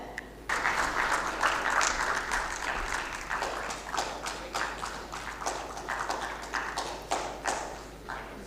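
Audience applause at an aerospace and defence festival, a broad wash of many hands clapping steadily and moderately loud, starting abruptly and continuing to the end with a low hum beneath.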